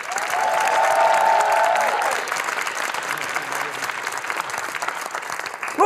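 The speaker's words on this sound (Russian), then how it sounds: "Под ваши аплодисменты." A studio audience applauds at a comedy show, dense sustained clapping that swells then gradually thins toward the end, loud and close, with a brief musical tone near the start.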